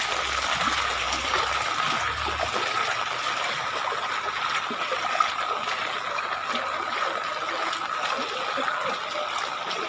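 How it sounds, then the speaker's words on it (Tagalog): Floodwater rushes steadily through a flooded neighborhood during heavy rain, a continuous broad wash of flowing water with a faint low rumble early on and no clear talk. "Dito sa amin baha na."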